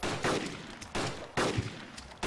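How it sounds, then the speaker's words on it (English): Sharp, loud gunshot bursts in the survival game DayZ, four blasts in quick succession, each followed by a short ringing decay, with no talking over them. "Was somebody shooting me?"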